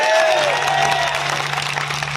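A crowd claps at an outdoor political rally in Ashoknagar, a dense wash of applause throughout, with a low steady hum from the sound system underneath.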